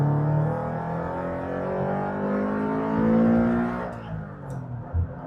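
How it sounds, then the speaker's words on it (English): A Subaru BRZ fitted with an aftermarket induction kit revs hard from inside the cabin, a loud, steady engine drone climbing in pitch, then easing off near the end with a brief thump. "This car hits the revs so quickly."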